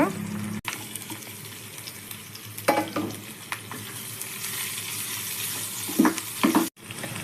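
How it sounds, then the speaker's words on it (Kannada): Onion goes into hot oil with lentils, curry leaves and green chili, sizzling steadily, with bursts of stirring and scraping in the pan close by. "ಬೇಳೆಗಳು ಕೆಂಪಾಗಿದೆ ಈರುಳ್ಳಿ ಹಾಕೊಳ್ಳೋಣ"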